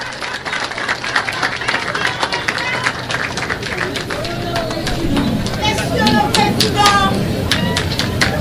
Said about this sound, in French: Aux applaudissements.